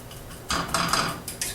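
A utensil stirs and scrapes a cooking flour gravy mixture in a pan, giving a few short, close metallic scrapes.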